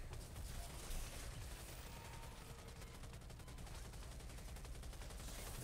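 Gunfire in the video game Outriders rattles in a dense, continuous stream of rapid shots, steady and unbroken throughout but quiet overall.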